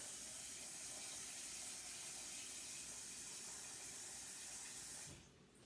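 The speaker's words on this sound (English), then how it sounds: "I'm going to put some water in here." Water pours into a pot in a steady, rushing stream for about five seconds, then tapers off abruptly; no voices.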